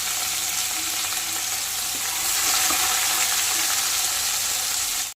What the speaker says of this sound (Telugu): ఉల్లిగడ్డ దోరగా వేగిన తర్వాత పచ్చిమిర్చి, ఒక టమాటా వేసుకొని 2 మినిట్స్ కుక్ చేసుకుందాం